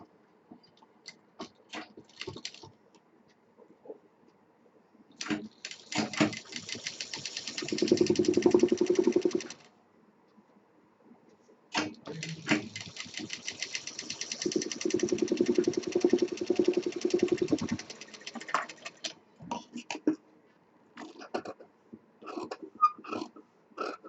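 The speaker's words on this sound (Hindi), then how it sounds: "अब इस साइड का भी चारों लेयर एक साथ सिल देनी है।" A sewing machine stitches through four layers of fabric on a sling potli bag. It whirs mechanically in two long runs, separated by a pause and framed by scattered faint clicks and taps, with no talking.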